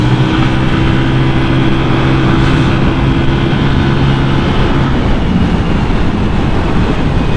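A Honda Vario 180cc scooter with its stock exhaust is ridden at speed, giving a loud continuous engine drone with steady low tones, thick with wind rush throughout.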